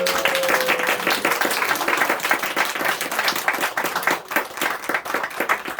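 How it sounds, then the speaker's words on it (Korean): A church congregation claps during a Sunday morning service for a Children's Day gift, a dense, lively burst of many hands clapping that holds steady and fairly loud for several seconds, with little talk. "자, 우리 박수 한번 하겠습니다."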